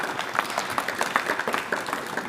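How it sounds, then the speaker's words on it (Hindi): A crowd at a girls' honour ceremony clapping, a steady round of applause from a fairly distant audience throughout. "इसलिए ताली बजा दी"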